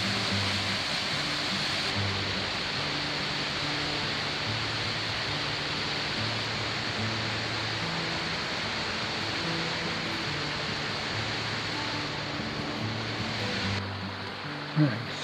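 Big Creek runs steadily near the Deer Lake trailhead, its flowing water a loud, continuous broadband rush that holds unbroken from start to finish with no talk over it.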